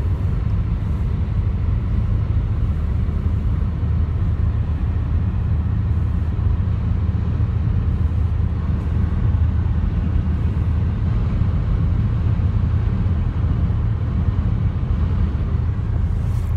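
Steady low engine rumble and road noise from a car driving at a constant pace, unbroken and even for the whole stretch, with no talking.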